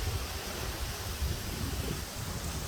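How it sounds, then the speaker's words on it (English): Wind gusting across an open outdoor overlook at Klondike Park, a steady broadband roar buffeting the microphone with low rumbling gusts and no voices. "I'm gonna hold on to my hat here because it's kind of windy."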